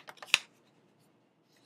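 A few crisp snips of scissors cutting paper, close and quiet, followed by silence and a faint rustle at the end.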